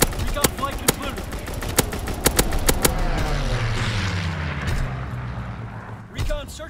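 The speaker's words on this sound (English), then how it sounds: "Firing for full effect." An artillery strike fires in the World War II shooter Call of Duty WWII. First comes a string of sharp, loud shots, then a long, rumbling barrage of blasts that rolls on and slowly fades, with game voice lines heard over it.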